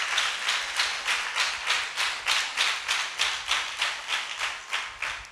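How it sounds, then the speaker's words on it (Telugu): A church congregation claps hands in praise, steady rhythmic applause with about two or three claps per second, loud and even throughout with no talk. "వారిని బట్టి, వారి సంఘాలను బట్టి చప్పట్లు కొట్టి దేవుణ్ణి స్తుతిద్దాం"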